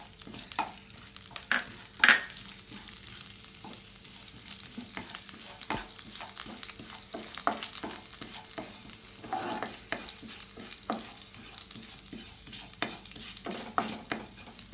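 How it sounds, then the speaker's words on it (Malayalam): Cumin seeds fry in a pan for paneer masala, a soft, even sizzle with regular stirring scrapes and light taps against the pan. "അതിനുശേഷം എടുത്തു വെച്ചിരിക്കുന്ന ജീരകം ചേർത്ത് കൊടുക്കുക."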